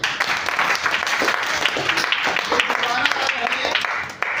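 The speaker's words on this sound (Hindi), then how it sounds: "मुझे पता है कि आप ये इनके लिए एक जोरदार ताली।" Audience breaking into a round of clapping after a spoken request, dense overlapping claps at moderate loudness running for a few seconds, with a voice faintly mixed in.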